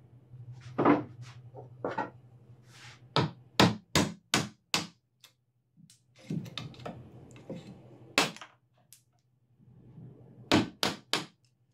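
A mallet drives a wood chisel into timber to cut a joint, giving sharp, loud, close knocks in irregular bursts of two to four strikes separated by short pauses.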